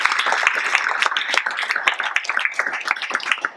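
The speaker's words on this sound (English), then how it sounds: "Let's give them a round of applause." A crowd at a school district event applauds, dense overlapping clapping at steady volume for a few seconds, thinning slightly toward the end.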